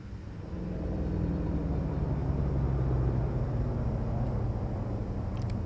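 A ship's thrusters in Elite Dangerous roar during descent toward a planetary surface, a steady, loud low rumble that builds in the first second and then holds evenly.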